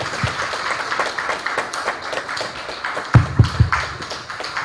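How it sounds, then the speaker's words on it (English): An audience applauds at a ceremony for the establishment of a university faculty of agriculture and environment, with a loose patter of claps and a few sharp nearby hand claps near the end in a reverberant hall. "Let's clap by standing up."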